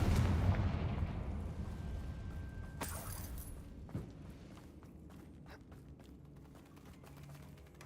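Confringo fire spell from the Hogwarts Legacy video game, a sharp blast that fades into a low rumble, followed by scattered crackles and light impact sounds, with no talk.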